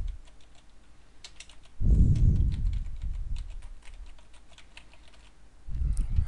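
Rapid, irregular clicking of keys on a computer keyboard as a search query is typed into Google, with close, dry taps continuing throughout and a few heavier low thumps.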